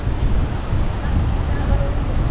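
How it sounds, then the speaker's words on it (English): Big waves crash on a beach under strong, gusty wind, with a loud, unbroken roar of surf and buffeting wind that stays dense and steady from start to finish. "As you can tell by the big waves and the windy flags, it's very, very windy outside."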